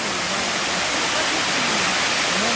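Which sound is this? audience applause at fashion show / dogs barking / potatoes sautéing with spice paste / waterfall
waterfall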